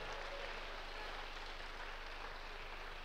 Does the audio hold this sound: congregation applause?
yes